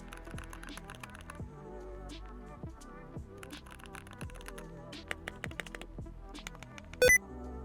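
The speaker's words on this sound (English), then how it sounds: "That's a fast keyboard." Fast keyboard typing, a dense run of crisp key clicks and clacks up close, with a few heavier thumps from larger keys and one loud tap near the end.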